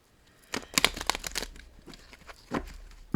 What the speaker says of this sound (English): I'm gonna have to shuffle again.